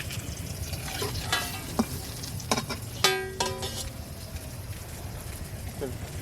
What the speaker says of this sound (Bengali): বেগুনটা ভেজে নিচ্ছি। বেগুনটা একটু মোটা মোটা করে কেটেছি আমি।